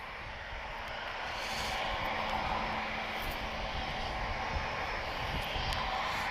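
An Airbus A320 arriving from Barcelona at Lisbon Airport gives a steady, moderately distant engine roar that swells slightly after the first second and holds evenly, with no talk.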